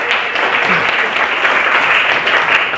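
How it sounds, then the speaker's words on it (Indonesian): Steady audience applause opening an Indonesian student talk show event, a continuous, fairly loud clapping wash with faint voices beneath. "Tepuk tangan untuk kita semuanya"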